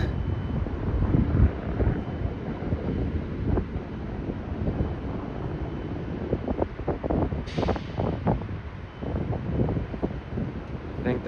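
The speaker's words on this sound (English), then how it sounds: "It's getting windy like it's gonna rain here." Gusty wind before rain rumbles against the microphone throughout near Denver rail and bus lines, rising and falling, with intermittent voices talking underneath.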